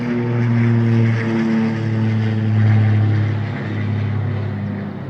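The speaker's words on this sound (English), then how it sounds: "Listen. Plane. Watch. Helicopter. Watch." A low-flying propeller plane or helicopter passes overhead, a loud, steady droning engine rumble that swells and eases slightly as it crosses, heard alone without talk.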